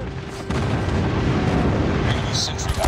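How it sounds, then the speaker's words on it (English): Airstrike explosions in the mobile shooter COD Mobile on the Shipment map: a loud, continuous rolling rumble of blasts and booms that thickens after the first half-second and carries on with little break. "Enemy airstrike incoming."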